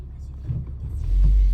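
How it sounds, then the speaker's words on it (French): Renault Clio 4 RS Trophy with an automatic gearbox downshifting, a low engine rumble that swells and grows louder toward the end, heard from inside the car with faint voices. "la boîte auto, ouais, ça régule tout seul. Elle rétrograde."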